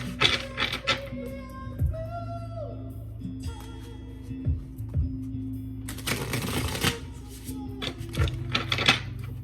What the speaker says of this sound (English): All right, so we're gonna shuffle this up.